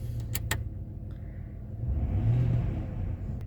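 A 2005 Ford F-150 engine revs up fairly loudly from a steady idle, its rumble swelling and then holding high, with a couple of brief metallic clicks near the start.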